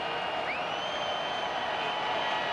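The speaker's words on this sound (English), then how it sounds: "Crowd getting fired up." Crowd noise in a college football stadium during a Louisville vs. Stanford game, a steady broad roar of cheering that holds throughout at moderate loudness with no voices standing out.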